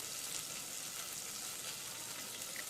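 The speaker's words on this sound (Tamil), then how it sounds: "அந்த எண்ணெயில் தக்காளியை வாட்டிடுங்க" Tomatoes sauté in oil with rock salt for a village rasam, giving a soft steady sizzle and crackle throughout, faint and close with no voices.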